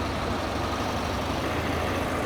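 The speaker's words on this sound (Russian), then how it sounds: "На холостых работает в принципе устойчиво." A Chinese Yamaha motorcycle engine with a dead oil-pressure lamp and a carburetor needing cleaning idles fairly steadily, an even, continuous mid-low engine drone, fairly close, with no talking.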